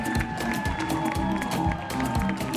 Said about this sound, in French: Est-ce qu'on applaudit encore pour Landry Niaba?